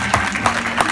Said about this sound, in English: Let's give the Lord a clap off for Pastor Detroit